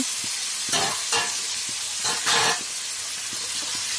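Mixed vegetables tipped into a pan of cooked-down tomato for a vegetable bhaji, giving a few bursts of sizzling and scraping stirs over a steady low fry hiss, close and moderately loud, with no talking.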